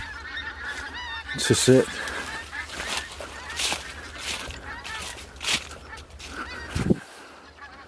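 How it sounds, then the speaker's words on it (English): Canada geese honk repeatedly in a noisy outdoor scene by a church graveyard, calls coming from a flock at mid distance, with a brief spoken word and some rustling. "is it Canada geese or something, but they're all going that way anyway."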